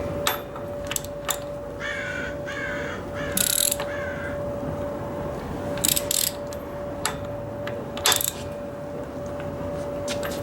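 A ratchet wrench tightening a sensor on a Cummins engine until it bottoms out, heard as repeated sharp metallic clicks in short bursts close up over a steady background hum, with no talk.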